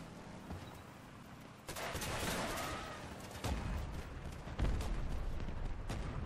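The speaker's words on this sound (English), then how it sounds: "Oh, that's enemy fire" Enemy gunfire in the vehicle combat game Crossout, with a dense run of shots and bursts that grows louder in waves across the clip, mixed with rumbling game noise.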